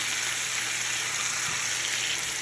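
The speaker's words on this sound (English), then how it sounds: "now we're going to make these on the top of the stove on the pan quickly on both sides" Salmon fillets sear in a pan on the stovetop with a steady, close sizzle, an even hiss that holds without a break through the short stretch.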